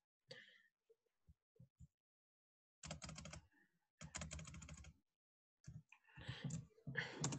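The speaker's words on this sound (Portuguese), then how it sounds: "eu vou digitar essa equação ali no formato de equação mesmo" Bursts of typing on a computer keyboard as an equation is entered during a lecture, with quick clustered key clicks separated by short pauses, close and fairly quiet.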